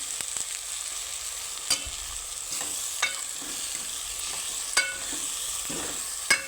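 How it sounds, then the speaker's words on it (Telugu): A spoon stirs salt into a potato, tomato and onion curry as it simmers on low heat, giving a soft, steady sizzle broken by a few sharp clicks of the spoon against the pan. "ఒక స్పూను ఉప్పు ఇప్పుడు కలుపుకోవాలి స్టవ్ సిమ్లో పెట్టుకోవాలి"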